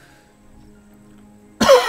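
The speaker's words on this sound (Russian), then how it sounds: "Кашель прицепился ко мне." A man gives a single sharp, loud cough close to the microphone at the end, after near silence.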